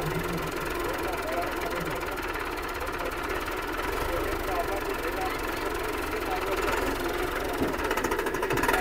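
A Perkins tractor engine runs at a steady idle-like chug at a rural fair, continuous and moderately close, with crowd chatter and talk mixed over it.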